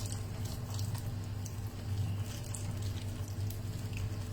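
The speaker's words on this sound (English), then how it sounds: "so just slowly pour the broth" A steady stream of broth pours and splashes continuously over fish slices, close by, with a low background hum and no talking.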